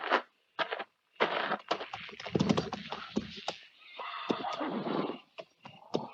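A horse whinnies loudly and shakily, with snorts and several neighs in bursts, close by.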